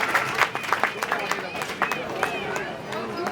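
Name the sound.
audience applause welcoming a minister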